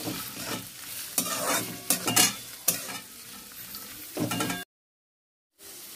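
Chopped onion and green chili fry in a pan and are stirred, giving a close, steady sizzle broken by repeated scraping strokes. The sound drops out briefly near the end, then the sizzle returns.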